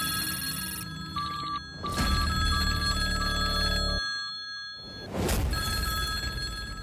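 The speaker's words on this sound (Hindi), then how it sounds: "राहुल ने फोन उठाया" A telephone rings in repeated electronic bursts, fairly loud and close, broken by short gaps and heavy noisy bursts between the rings, with no talking.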